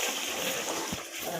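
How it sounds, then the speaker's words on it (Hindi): Water poured into a pot of simmering curry (salan), a steady splashing, sloshing wash with a brief low thump near the end, close by and alone. "अब इसमें थोड़ा सा मैं ऐड करूँगी पानी।"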